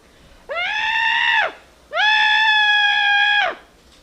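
Two screams performed on request in a radio drama, each a long sustained wavering cry lasting about a second or more, loud and close, separated by a short pause, with no talk.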